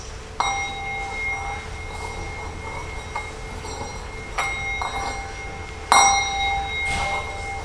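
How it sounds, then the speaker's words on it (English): A worship bell rings out several times during a service, with sustained, shimmering tones, the strikes spaced a few seconds apart and the last one louder, with no talking. "come into this space of worship with the sound of the bell"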